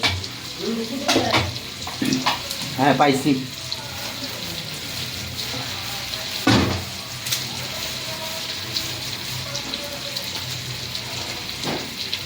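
Coriander leaves are rinsed under running tap water in a home kitchen, a steady close splashing hiss that continues throughout while someone speaks briefly over it near the start.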